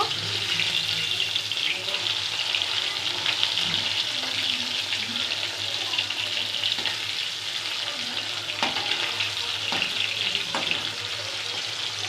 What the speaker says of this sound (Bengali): এখন এটাকে তেলকে দিয়ে আবারও একটু ভেজে নেব